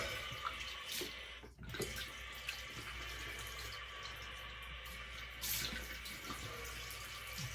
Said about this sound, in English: And we do a cold water rinse.